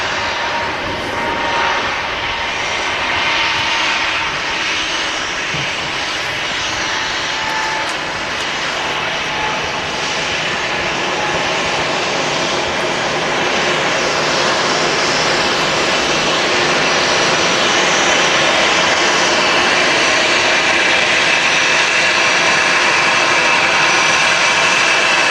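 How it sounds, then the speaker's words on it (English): Jet engines of an EasyJet airliner roar steadily as it rolls down the runway at Manchester Airport, a loud broadband rumble that holds and gradually swells over the whole stretch, with no voices over it. "The EasyJet rolling is going to Tenerife"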